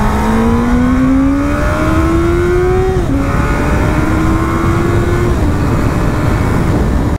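A loud inline-four 954cc engine on a 2002 Honda CBR954RR motorcycle revs steadily upward, drops back for a moment, then climbs again, droning close by throughout.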